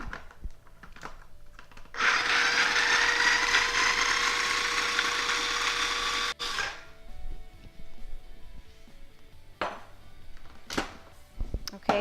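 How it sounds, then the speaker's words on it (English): A food processor finely chops half a cup of walnuts in a loud, steady whirring burst lasting about four seconds and ending abruptly, followed by quieter clatter and rustling. "I have half a cup of walnuts that we're going to finely chop in the food processor"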